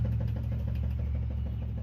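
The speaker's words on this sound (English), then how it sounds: "Truck's running." An old truck with a swapped big-block Chevy engine idles nearby, giving a low, steady rumble with a faint regular knock under it, fairly quiet and with no voices.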